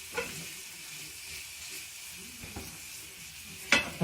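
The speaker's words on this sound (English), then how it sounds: "we're just going to sort of toss that around for a couple of minutes to start that squid cooking." Squid and onions sauté in a hot pan for a Spanish calamari dish in onion sauce, giving a soft steady sizzle with occasional stirring scrapes and a sharp clank near the end.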